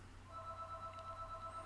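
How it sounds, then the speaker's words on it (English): A telephone rings faintly in the background during a lecture on transformation equations, a soft, pulsing electronic tone repeating under low room hum. "sorry about the phone ringing"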